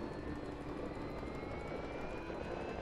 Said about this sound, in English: Engine is started. We are taking off.